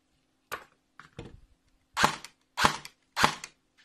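A Type 56-1 replica gun fires in a quiet room after its motor screw is tightened, giving five or six sharp, close snaps at irregular intervals with silence between.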